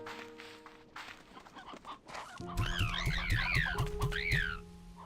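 Chickens in the game Slime Rancher 2 give a rapid run of clucks and squawks, close and fairly loud, over a steady droning game hum after a quieter stretch.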